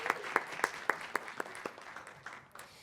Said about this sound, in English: So just another big round of applause to welcome my panelists